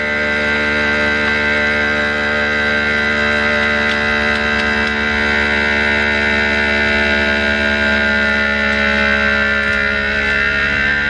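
A vacuum sealer runs while sealing, a steady mechanical motor hum with tonal overtones, loud and continuous with no talking.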